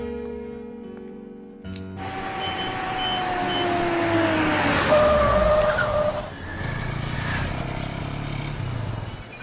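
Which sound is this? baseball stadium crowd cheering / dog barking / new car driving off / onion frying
new car driving off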